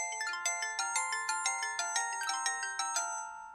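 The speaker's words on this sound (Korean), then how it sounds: "바로 그때 사장님한테 전화가 왔는데요" A phone ringtone for an incoming call, a bright melodic electronic tone of repeated notes in a steady pattern, clear and alone with no talk.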